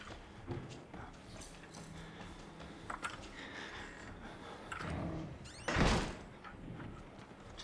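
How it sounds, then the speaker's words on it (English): Doors bang and thunk in a dark Outlast game level, with several scattered impacts and one louder, booming slam near the end over a quiet, rumbling background. "Slam the doors, why don't you?"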